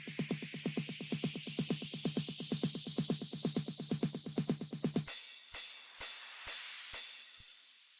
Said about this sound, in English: Then for the drop, we've got a riser, a snare riser, another riser here with a little thing on the end, and then a downlifter and some crash cymbals.